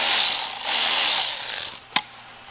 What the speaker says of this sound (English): so let's loosen up the clamp